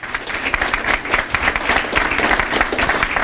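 An audience at a veteran reboot class graduation gives a sustained round of applause, many hands clapping densely and steadily at a fairly close distance, with no talk over it.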